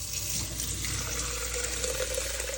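Water runs from a tap in a steady, continuous rush that fills a container, close and even throughout with no talking.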